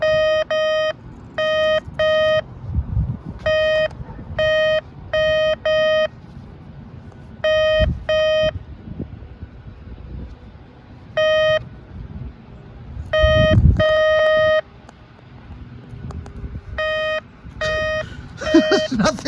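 A SkyCruiser metal detector beeps in irregular clusters of short, bright electronic tones, some single and some doubled, over a low background rumble.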